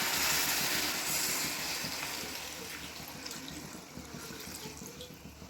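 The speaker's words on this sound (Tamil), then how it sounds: "இது மாதிரி நண்டு ஃபுல்லாக உள்ளே முழுகிற அளவுக்கு தண்ணி ஆட் பண்ணிக்கோங்க" Water pours steadily into a cooking pot of crab masala nearby, a rushing splash that gradually softens and fades toward the end.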